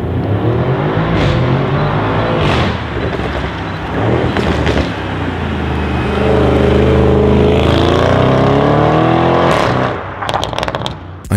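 Audi RS6 with a Milltek exhaust system revs loud and close, deep burbling engine rising and falling in repeated surges with sharp crackles and pops between them.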